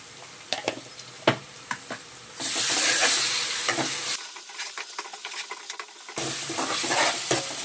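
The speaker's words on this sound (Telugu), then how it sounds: "అల్లం ఎల్లిగడ్డ పచ్చి వాసన పోయినంత వరకు కలుపుకుందాం" Ginger-garlic paste and turmeric frying in a pan over softened onions, stirred with a utensil. Irregular scrapes and clinks give way to a loud, bright sizzle that drops out partway, then resumes, close up and with no talking.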